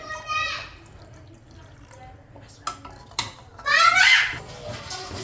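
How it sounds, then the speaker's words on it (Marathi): Water is poured into a cooking pan of khandoli bhaji, giving a brief splashing pour near the end along with light clinks of utensils against the pan, and someone talks over it. "आणखी थोडं पाणी ऍड करतेय"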